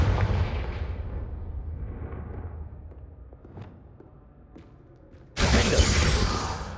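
A Confringo fire spell from Hogwarts Legacy bursts with a deep booming blast that rumbles and fades over a few seconds, followed by a sudden loud whooshing roar of fire; no talk.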